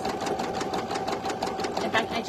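Embroidery sewing machine stitching satin at very high speed, a rapid continuous mechanical chatter with fast needle pulses, close and steady throughout.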